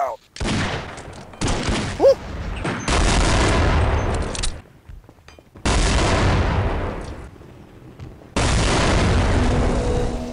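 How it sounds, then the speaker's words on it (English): Grenade blasts in the Echoes game mod boom loudly in several heavy bursts with sharp gunfire between them, while players shout over the chaos. "Grenade! Get down!"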